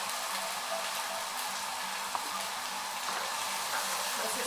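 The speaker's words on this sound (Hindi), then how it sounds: "बस इसको ज़रा भूनें ताकि लहसुन थोड़ा सा सुनहरी हो जाए" Garlic fries in oil in a pan for shab daig, a dense, steady sizzle with a faint low hum beneath, close and continuous throughout.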